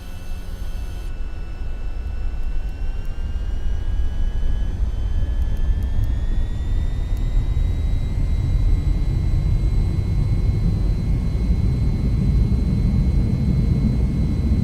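A jet engine runs at full throttle on a takeoff roll in the VTOL VR video game, a loud steady roar with a whine that climbs in pitch as speed builds, no talking.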